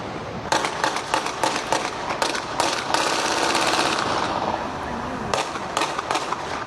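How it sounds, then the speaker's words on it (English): A rapid series of sharp, cracking bangs in bursts, gunfire outdoors in a tourist area near the airport in San Juan, Puerto Rico, with a dense volley in the middle and scattered pops at the end. "Gunfire erupted in an area frequented by tourists near the airport."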